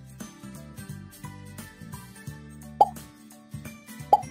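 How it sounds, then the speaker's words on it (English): Two short, bright cartoon-style pops for an animation, each a quick rising plop, land about a second and a half apart over steady background music. "There is a bunch of pop sound effects, listen to them and select best for your animation."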